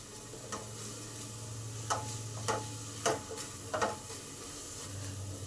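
Onions fry gently in a pan with a soft, steady sizzle, broken by a few quiet scraping stirs of a utensil; close and fairly faint.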